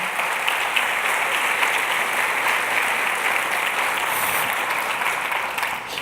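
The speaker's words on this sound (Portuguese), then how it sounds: "Pode aplaudir ao Senhor." Sustained applause from an audience at a church gathering, a dense, steady clatter of many hands clapping for the full stretch and tapering slightly at the end, with no voices over it.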